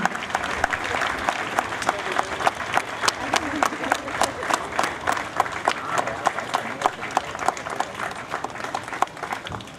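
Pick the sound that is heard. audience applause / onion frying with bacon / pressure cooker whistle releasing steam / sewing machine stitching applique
audience applause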